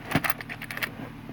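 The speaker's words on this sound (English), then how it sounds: "I got suitcase keys in there." Suitcase and briefcase keys jangle close by in a short burst of bright metallic clinks, with the low hum of a car faintly underneath.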